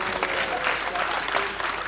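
Audience applause for a poet at a Hindi comedy poetry gathering, a dense, steady wash of clapping hands filling the hall, with a faint voice partly audible beneath it.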